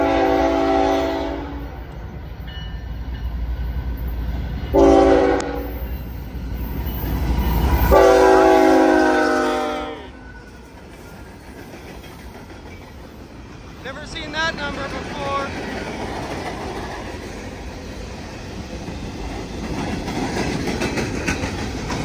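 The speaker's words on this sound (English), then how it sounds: "Empty coal! Empty coal train!" An empty Norfolk Southern coal train passes in Ironton, Ohio: loud horn blasts in bursts, then a long rumble and rattling clatter of cars rolling by close, with people talking over it.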